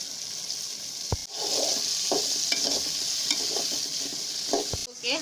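Pieces of potato, pointed gourd and yardlong bean fry in hot oil for a raw jackfruit curry, a steady bright sizzle with a few sharp clinks of a utensil and stirring scrapes, close and continuous.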